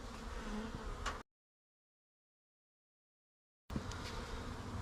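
Honeybees buzzing around an observation hive being loaded, a dense close insect hum in two stretches separated by a long gap of silence.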